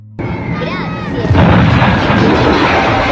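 Aerial bombing explosions in a war film: an abrupt loud boom swells into a heavy, sustained rumbling barrage.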